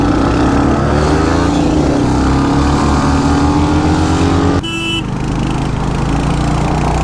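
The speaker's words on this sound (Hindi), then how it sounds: "फाइनली हम ड्रैग कर रहे हैं" Close, loud engine roar from motorcycles in a drag race between a Royal Enfield Hunter 350 and a Yamaha MT-15, a rising pulsing drone that shifts abruptly near the middle and continues steadily.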